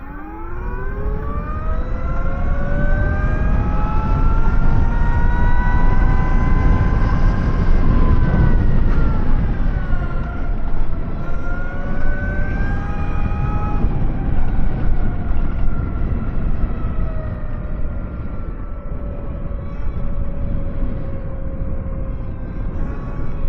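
An electric motorcycle pulls away from a stop and accelerates toward 60, its motor whine climbing steadily in pitch, easing briefly, then rising again as the speed keeps building, loud and close with no talk.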